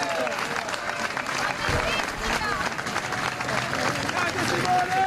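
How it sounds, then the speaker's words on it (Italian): Applause from an arena audience at a Treviso Basket promotion celebration to Serie A, greeting the team manager; dense, steady clapping and crowd noise with an announcer's voice over it. "fate un applauso anche a Simone"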